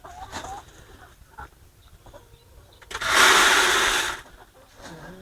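Chickens on a laying farm cluck at feeding time, with scattered soft clucks and calls and a louder burst of rustling noise near the middle.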